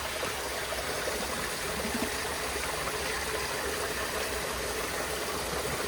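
Water runs steadily in a backyard koi pond being readied for winter shutdown, a constant close trickle and hiss with a faint low hum beneath, unbroken throughout.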